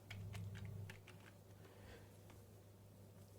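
Rapid clicking of a computer keyboard while text is entered into a search bar, a quick burst of close, crisp keystrokes over a steady low hum, no one speaking.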